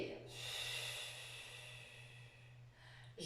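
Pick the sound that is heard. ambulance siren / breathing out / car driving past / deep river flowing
breathing out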